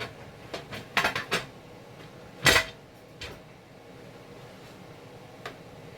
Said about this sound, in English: Get my lid on here.